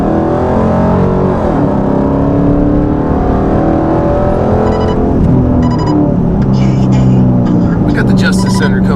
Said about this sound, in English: we're just gonna be doing the sound of the drone inside the car